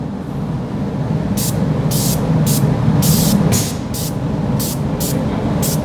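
A trigger sprayer applying product in short, evenly spaced bursts, each a crisp hiss heard close up over steady low background rumble, about nine bursts in a row.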